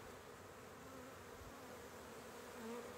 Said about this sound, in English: we'll kind of show a cluster of bees